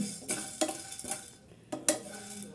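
Whole spices such as dried red chillies and coriander seed are stirred and dry-roasted in a pan over low flame for a mushroom curry, giving several sharp spoon scrapes and clinks against the metal with a faint crackle between.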